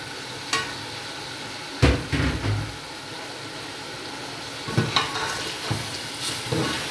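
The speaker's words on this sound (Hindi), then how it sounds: "और अब इसके बाद हमने ऐड करने हैं मटर।" Peas tumble into a pan of frying potato and chicken curry, then a spoon stirs them in. Loud scraping and clattering bursts land over a constant background sizzle, with quieter stretches between them.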